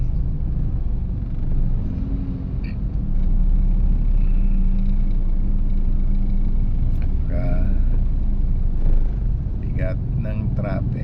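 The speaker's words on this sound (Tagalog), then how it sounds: "Bigat ng traffic." Heavy road traffic in Taguig: a constant low engine rumble of slow-moving cars and motorcycles, fairly loud and close, with someone talking over it.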